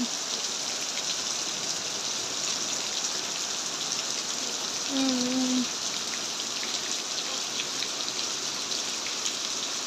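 Rain falling steadily outside a house, a dense even hiss of drops on surfaces, close and continuous, with a brief tonal sound partway through.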